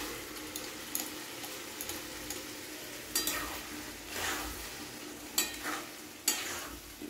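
Boiled peas go into a pan of frying spices in oil for ghugni and are stirred, giving a steady soft sizzle broken by several sharp spoon scrapes and clacks against the pan.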